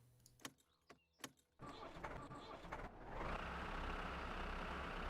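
A tractor in the My Summer Car game: a few sharp knocks and clatters, then the engine rumbles into life and swells louder and rougher as throttle is added, running steadily up close.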